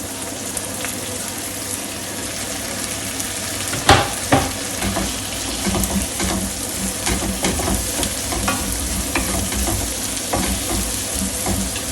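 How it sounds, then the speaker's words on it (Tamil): Chopped tomatoes go into softened onions frying in sesame oil for a Tamil dried-fish kuzhambu, with a loud steady sizzle, some stirring scrapes and a couple of sharp knocks near the start. "வெங்காயம் நல்லா வதங்கிடுச்சு. இவருக்கு மேலே தக்காளியை போடுவோம்."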